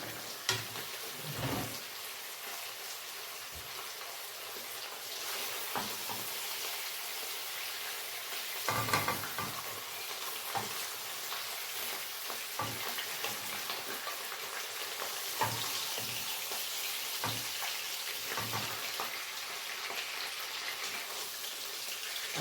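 Sausage frying in a pan, a soft continuous sizzle with scattered crackles and a few stirring scrapes and clinks, quiet and close, no talk.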